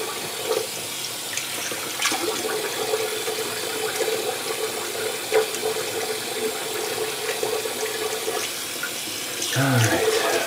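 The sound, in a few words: tap water running for rinsing after shave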